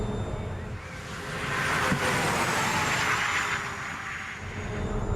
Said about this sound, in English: Everyone talks about it being quiet, but it isn't when you're inside it. It makes a loud whining noise.